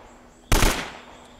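A single loud gunshot from a weapon in Uncharted: Drake's Fortune, a sharp close blast that rings out and decays over the following second with no talking.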